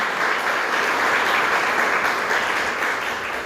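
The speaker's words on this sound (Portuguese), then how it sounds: "eu gostaria de pedir uma salva de palmas para Carlos Henrique, o nosso novo coordenador" Applause for the new coordinator Carlos Henrique at a public lecture: a dense, loud crowd clapping that holds steady throughout and eases slightly at the end, no voices.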